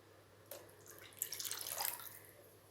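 Water pours into a pot while making rava kichadi, a brief splashing rush that swells and fades over about a second and a half, fairly faint and close.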